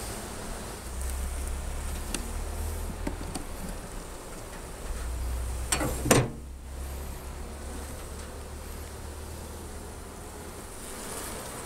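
Honey bees hum in an open queenless hive infested with beetles, a continuous low drone at close range with a brief louder burst midway and scattered faint clicks.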